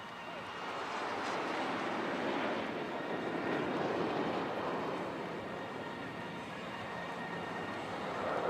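Jet aircraft roaring past at an air show in Chennai, a loud continuous rushing swell that builds and fades slowly, with a commentator's voice faintly under it.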